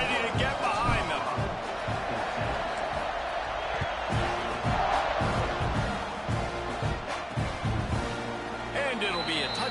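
Stadium crowd noise fills a college football video game, a steady roar with scattered whoops and cheers under continuous commentator talk.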